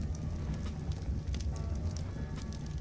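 Fire burning in the ARK video game, a steady dense crackling hiss with soft low rumble, continuous and fairly close throughout with scattered brighter pops.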